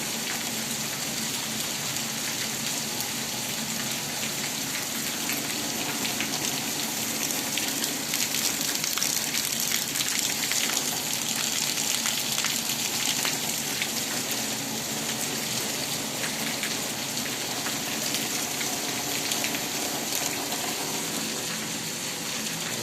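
Torrential monsoon rain pours down in Gadhada, Gujarat, as a swollen river overflows, giving a dense, steady hiss of falling rain and rushing water that does not let up.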